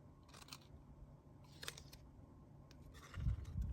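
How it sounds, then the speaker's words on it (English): Faint snips of scissors cutting paper, a few separate crisp cuts spread out over quiet room noise, with a louder rustle at the end. "So I'm going to cut this again on this side."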